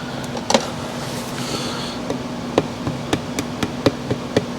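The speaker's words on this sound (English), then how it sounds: "Light taps on the ring compressor, so that's seated against the block." Light hammer taps on a piston ring compressor seated against a Subaru EJ25 engine block, a series of sharp metallic ticks spaced irregularly over a steady background hum.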